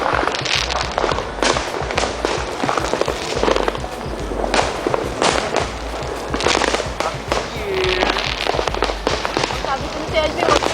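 Fireworks burst in a rapid, irregular volley of loud cracks and crackling pops, some near and some farther off, while people talk and exclaim among them.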